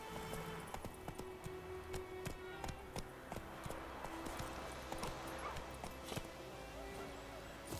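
A horse's hooves clip-clop in a steady, evenly spaced rhythm while riding in The Witcher 3, mid-loud against a busy game backdrop, with speech now and then over the top.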